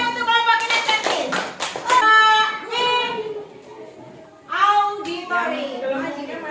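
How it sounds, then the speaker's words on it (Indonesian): Children in a classroom clap together for a group, bursts of hand claps mixed with a teacher's voice and children's chatter throughout. "tepuk tangan untuk kelompok kinestesis"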